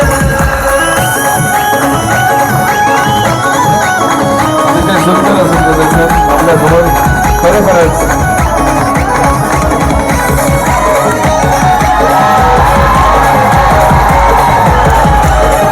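Large outdoor crowd cheering and shouting at a Dahi Handi human pyramid festival in Shrivardhan, a loud continuous roar of voices with rising whoops, dense and close throughout.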